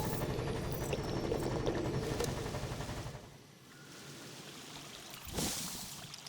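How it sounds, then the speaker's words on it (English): Water pours into pipes in the LEGO Harry Potter: Half-Blood Prince video game as a loud, rushing stream for about three seconds. It then fades to a softer trickle, and a brief whoosh follows near the end. "Now we're going to fill up the pipes with water."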